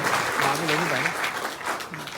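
A short burst of audience clapping plays under a voice, which talks loudly over it as the applause continues and fades.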